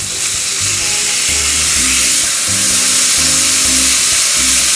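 Portobello mushroom burgers frying in a pan with onions, a steady loud sizzle throughout with a low intermittent hum beneath, no talking.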